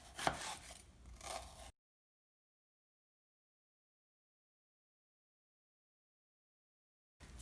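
A knife making downward cuts through an onion, with quick chopping taps heard close up for under two seconds before the sound cuts to silence.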